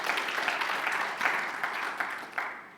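A church congregation applauding during a Sunday service, a dense, sustained wash of clapping from many hands that fills the room for the whole stretch, with a few louder swells.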